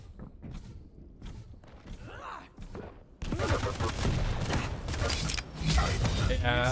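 Railgun shots and rocket blasts fire in quick succession during a competitive video game duel. Dense, loud, overlapping bursts, with commentators talking throughout.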